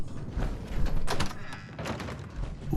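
Doors opening in the Fallout 4 video game, a series of soft thuds and knocks scattered across the stretch, close and moderately loud over a low ambient rumble.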